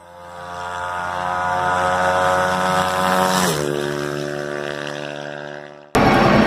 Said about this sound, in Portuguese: E a gente vai funcionar esse motorzão.